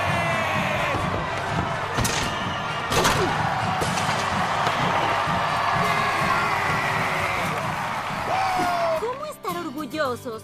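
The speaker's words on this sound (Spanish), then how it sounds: "Un aplauso para sus queridos Diablos Azules." A school crowd cheers and shouts for the Blue Devils mascot, steady loud cheering with whoops and a few sharp bangs, while voices call out over the noise.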